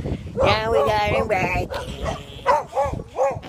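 A young puppy gives a run of high yips and whimpering barks close by, several short bursts over a few seconds, with a person's voice mixed in.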